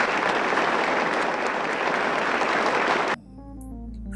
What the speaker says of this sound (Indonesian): Fred menyuruh John untuk berdiri dan menyambut tepuk tangan yang ditujukan untuknya.